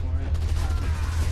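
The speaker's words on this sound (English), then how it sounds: "I just watched someone shoot at the decoy" Rapid gunfire in Gears of War 3 Horde Mode: dense, booming bursts that run continuously and loudly, with a player's voice faintly audible over the shooting.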